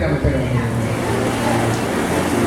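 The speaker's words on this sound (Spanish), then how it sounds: "Lo que pasa es que por la lluvia no podemos oír." Steady heavy rain hisses over everything in a dense, continuous wash, drowning out the setting, with a low rumble underneath.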